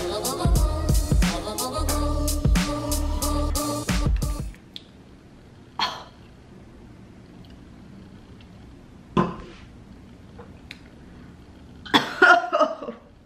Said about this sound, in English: This cough of mine, bye.